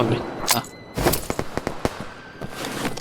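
Gunfire in the video game Operation: Harsh Doorstop: a few distant, fairly quiet shots, then a quick burst of sharp cracks in the middle, over a low background hum.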